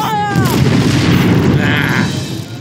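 Torpedo launches and blasts from a ship battle in the Treasure Planet video game near Procyon: a dense, sustained rumbling boom lasting a couple of seconds, loud and heavy, with a brief tonal whistle at the start.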